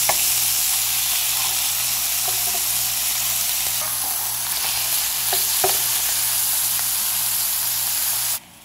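Turkey burgers fry in a pan with a steady, loud sizzle that runs unbroken, broken by a few faint clicks of handling, then cuts off abruptly near the end.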